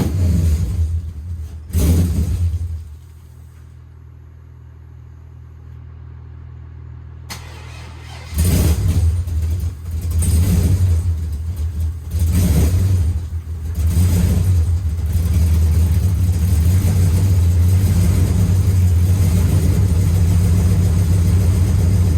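Cummins diesel fitted in a Trans Am with a leaking exhaust manifold cranks, dies, then starts and runs with a loud, close, rough idle and brief revs, no talking.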